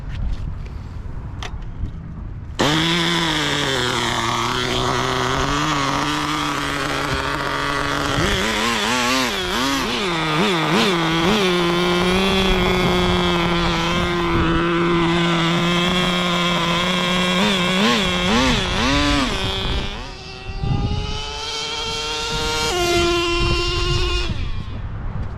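A Kyosho KF01 nitro RC F1 car with a two-speed transmission fires up and runs, its tiny engine screaming loud and close, revving sharply up and down with rising whines and brief dips.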